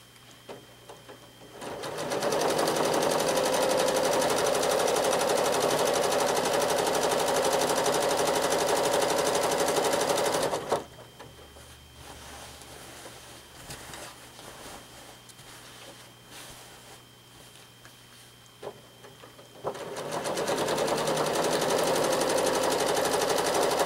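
A sewing machine stitches in rapid, steady bursts during free motion quilting, running loud for about ten seconds, pausing to a quieter hum, then starting up again near the end.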